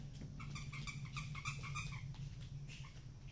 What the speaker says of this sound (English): what do I have in here that squeaks?